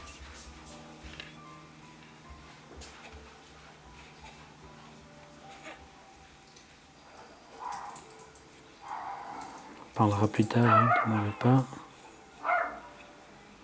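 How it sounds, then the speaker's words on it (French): A dog barks several times in loud close bursts near the end, with a couple of fainter yips before, while someone talks in French. "Désolé pour le chien qui aboie."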